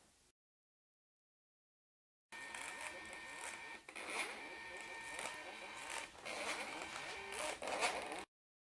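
An HPRT MT800 mobile A4 printer runs through a page with a steady mechanical whir and scratchy feed noise for about six seconds, with a few louder clicks along the way.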